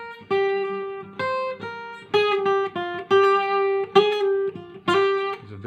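A 12-string guitar in C sounds a dominant seventh chord, strummed repeatedly in a loose rhythm of about ten shimmering, close chords with no talk.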